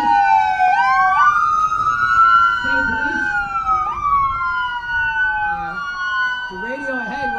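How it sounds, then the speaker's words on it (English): Police and emergency vehicle sirens climb a hill toward the listener, several overlapping wails sweeping up and down, loud and continuous with faint road noise beneath. "You'll hear the sirens coming up the hill."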